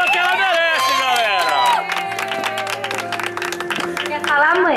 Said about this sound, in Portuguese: Pode bater palma que ela merece, galera!